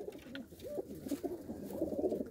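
Pigeons coo in soft, rounded bursts, several low calls overlapping and repeating at an uneven pace, fairly close but quiet, with no talking over them.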